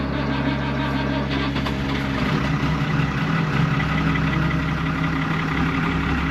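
A 6-cylinder turbo tractor engine idles just after starting, a loud steady low rumble that stays constant throughout with no breaks.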